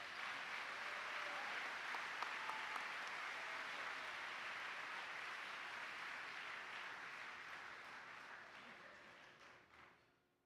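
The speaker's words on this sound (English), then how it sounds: "Let's give these young people a round of applause." A large audience at an awards luncheon claps for young honorees, a long, dense wash of applause heard from a distance that holds steady, then fades and stops at the end.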